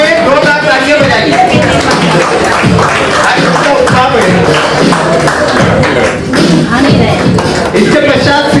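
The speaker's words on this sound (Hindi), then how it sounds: "2 लाख तालियां बजाइए" Loud, dense applause from an audience at an awards ceremony in Raipur, India, sustained clapping throughout with a voice faintly audible beneath it.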